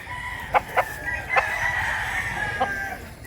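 A tall rooster at a Mantalungon, Cebu poultry market gives one long, loud, close crow, with a few sharp clucks and calls from other fowl around it and no talk.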